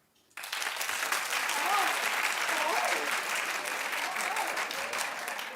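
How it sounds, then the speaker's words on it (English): A studio audience on a talk show bursts into loud, sustained clapping that begins suddenly and continues for several seconds, with faint voices mixed underneath. "Okay, clap if you're done."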